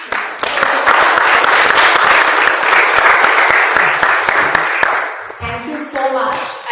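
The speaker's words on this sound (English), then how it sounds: "can we again have a huge round of applause for, of course, Neelima" A conference audience in Dubai breaks into loud, dense applause that carries on steadily for about five seconds before fading, after which a voice speaks.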